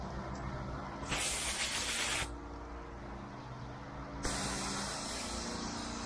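An AR45 gas roof pump sprays soap in two loud, steady hissing bursts of about a second and two seconds, separated by a lower running hum.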